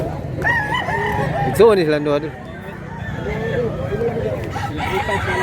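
A rooster for sale at a market in Mantalungon, Cebu crows once loudly and close, with other fowl clucking around it as people talk and haggle over prices nearby.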